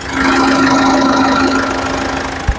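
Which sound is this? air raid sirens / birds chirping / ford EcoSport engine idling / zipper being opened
ford EcoSport engine idling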